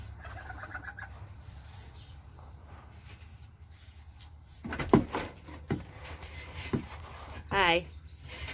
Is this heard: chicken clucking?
yes